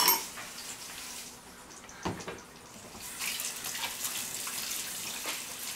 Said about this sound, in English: first thing I do before I cook is wash my hands.